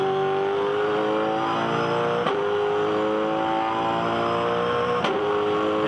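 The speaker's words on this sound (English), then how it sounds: "This is an angry pack of cars." A pack of V8 Supercars racing at Phillip Island, loud layered engine drones holding high revs together, with a couple of sharp shifts or blips, continuous and close.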